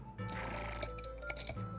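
A horse whinnies in a single drawn-out neigh in the game Ultima Online, close and fairly quiet, with a faint electronic game backdrop.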